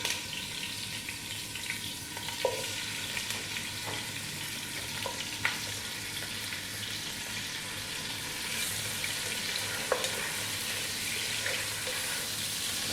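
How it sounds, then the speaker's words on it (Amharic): Pieces of lamb frying in olive oil in a large pot, a continuous hissing sizzle with a few scattered clicks and taps of a utensil, heard close with no talk. "ስጋዬን መጀመሪያ እንጠብሳለን።"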